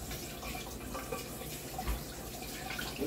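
Liquid laundry detergent poured into a dispenser in a home kitchen, a quiet, steady trickling pour lasting a few seconds with no voices.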